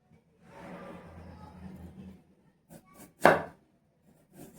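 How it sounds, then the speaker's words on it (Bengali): A knife slices through a peeled potato with one sharp close chop and a few lighter taps, after a soft voice speaks briefly. "তারপরে এইভাবে একটু পাতলা পাতলা স্লাইস করে নেব"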